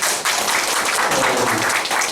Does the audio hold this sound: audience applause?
yes